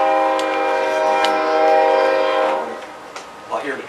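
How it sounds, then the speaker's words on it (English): A passing train sounds a loud, sustained horn chord for a couple of seconds, heard from inside a city council meeting room, then the horn cuts off and a quieter rumble follows with brief noises. "I hear the train coming"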